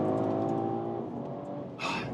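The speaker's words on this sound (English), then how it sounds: "And then let's see here on the gas, hard." A BMW Alpina B3 GT with all-wheel drive accelerating hard out of a corner, its engine note heard from inside the car as a steady, loud rising drone with a brief whoosh near the end.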